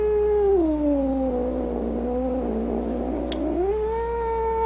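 A small kitten lets out a drawn-out, strained yowl that dips low in the middle and rises again, loud and close, over a faint steady hum.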